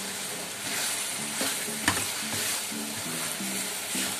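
A vegetable sauce with a stock cube fries in a pan while being stirred, making a steady sizzle overlaid with rhythmic scraping strokes and one sharp clink.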